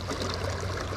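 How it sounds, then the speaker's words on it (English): Water pours steadily over a small waterfall in a shallow creek, a close, continuous rushing and splashing wash with no pauses or voices. "I'm sitting here in this water, in this little waterfall."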